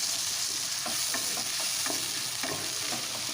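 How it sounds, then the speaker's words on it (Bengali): A ground paste of tomato, ginger, green chili and bay leaf, with roasted spices, fries in a pan. It gives a constant bright sizzle with rhythmic close spatula strokes stirring it and no speech. "এখন নাড়াচাড়া করে মশলাটাকে একটু কষিয়ে নেবো"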